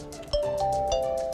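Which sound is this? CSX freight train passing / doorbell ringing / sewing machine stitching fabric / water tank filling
doorbell ringing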